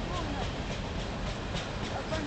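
A long grain freight train led by a single CP locomotive rolls past close by, its cars giving a steady rumble with regular clickety-clack beats from the rails, and faint voices nearby.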